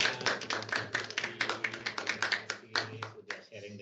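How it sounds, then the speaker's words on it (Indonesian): A small audience at a book discussion event claps briefly, a loose patter of individual hand claps in quick succession from a handful of people, close and fairly crisp, fading out near the end. "Oke, tepuk tangan."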